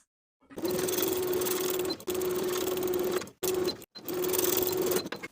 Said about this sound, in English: Sew the cuff in place straight across with a 3/8 inch seam allowance